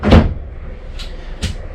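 A drawer in a 2020 Forest River Rockwood Roo 23IKSS travel trailer opens and closes with a loud wooden thump, followed by two lighter knocks about a second apart, close by with no talking.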